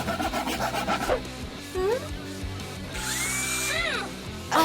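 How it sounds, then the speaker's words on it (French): Power tools sawing and drilling on a homemade wooden ladder, a loud whining drill with rising and falling pitch sweeps, in bursts with brief pauses, close by. "Il arrête pas de scier et de percer."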